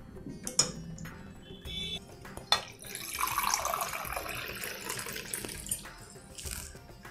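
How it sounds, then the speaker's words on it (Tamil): Water poured into rasam in a home kitchen pot, splashy pouring bursts mixed with clinks of utensils and brief taps, fairly close and moderately loud, with no talking. "நம்ம எவ்வளோ தண்ணி வேணுமோ அவ்வளோ விட்டு விழா விடணும்."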